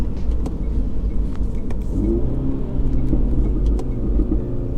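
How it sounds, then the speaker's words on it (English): Exhaust of a used MINI Cooper S crackling and burbling on a downshift, a loud close low rumble with scattered sharp pops throughout. "it crackles when you downshift"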